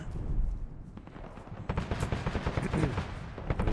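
In the Arma 3 video game, the cannon mounted on a Praga truck fires in a rapid string of heavy booming shots, distant to mid-range, overlapping with rumbling echoes and background battle noise.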